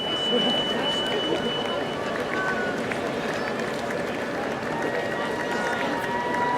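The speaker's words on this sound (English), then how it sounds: "The applause continues. The hand slapping never stops here." Crowd at the Waikiki Rough Water Swim finish line clapping and cheering steadily for arriving swimmers, a continuous wash of hand slaps and voices mixed with chatter.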